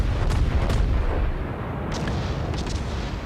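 Shells from enemy warships strike and burst around the player's ship in a naval battle game, a dense, rumbling roar of heavy booms with a few sharper cracks.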